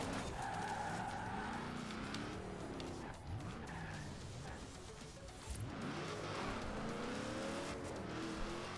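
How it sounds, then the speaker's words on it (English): Cars drag racing in Forza Horizon 4, with engines roaring and tires squealing and skidding, loud and continuous, rising and falling as the vehicles accelerate and shift. "It's a drag race and he's pulling away from me."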